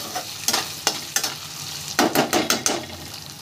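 Potato slices fry in a pan with a little salt, sizzling steadily while a utensil scrapes and stirs them in quick, irregular strokes, close and clear with no talk.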